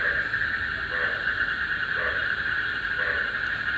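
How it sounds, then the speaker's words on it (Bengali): Frogs call outside in the dark, a soft evenly spaced croak about once a second over a steady high insect drone, fairly distant and without speech. "ভিউয়ার্স, অনেক বছর পরে ব্যাঙের ডাক শুনলাম।"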